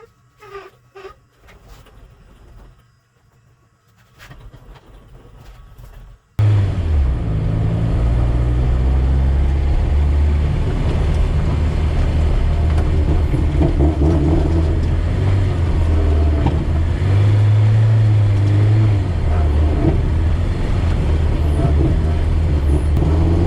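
A Honda CRX fitted with a K24 engine pulls away after a quiet moment, then a loud, steady engine drone and road rumble continue close by for the rest of the stretch.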